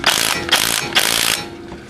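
A hand ratchet turns a bolt on the hub of a 2004 Ford Explorer 4.0L, giving three quick bursts of clicking in a steady rhythm, close and loud, then a faint tail.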